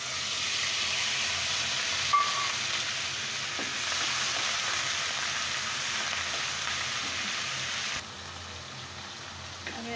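Onion, garlic and ginger paste fries in a hot pan for a pilaf with cabbage, a loud steady sizzle and hiss running throughout with a faint clink or two.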